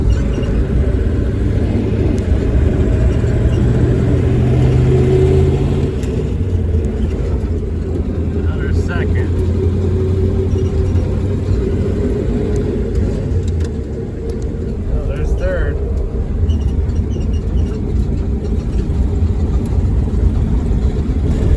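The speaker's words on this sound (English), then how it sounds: "this is the first time I've driven this car further than just my driveway here" A V8 AMC Hornet wagon with a 304 engine on its first drive: a steady, low engine rumble and road noise from inside the car, continuous and fairly loud, with some talking.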